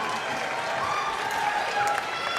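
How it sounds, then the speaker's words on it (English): Audience applause and cheering at a professional Latin dance championship final, a steady dense wash of clapping and crowd noise filling the whole stretch, with a voice calling out over it. "Let's cheer them on."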